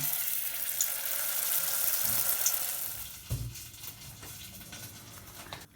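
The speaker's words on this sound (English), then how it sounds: "We're gonna fry them now in the hot oil" Duck-filled lumpia spring rolls frying in hot oil, giving a steady close sizzle that rises and softens across the clip, with a brief clatter from the pan partway through.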